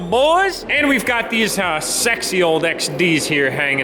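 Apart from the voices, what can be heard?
No distinct noise like a dog, phone or traffic.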